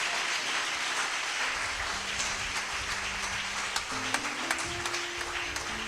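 Church congregation applauding and cheering during a worship service, a steady dense wash of clapping with a few sharper claps near the end and a held organ or keyboard tone underneath.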